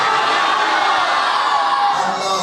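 Large crowd at a religious gathering roars a loud, steady mass chant that fills the brief moment without pause.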